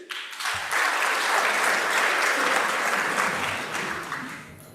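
Audience at an Islamic banking and finance conference breaks into loud, sustained applause that swells quickly, holds for several seconds as a dense roar of clapping, then begins tapering off.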